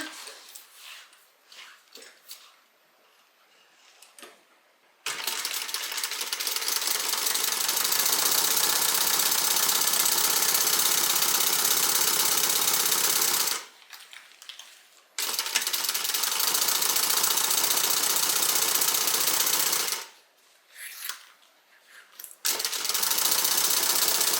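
A sewing machine top stitching a handbag runs in long, steady, loud bursts, pausing briefly twice between stitching runs, with quiet handling noise in the gaps.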